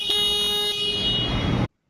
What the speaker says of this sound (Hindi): एक बार इसका हॉर्न सुन लेते हैं।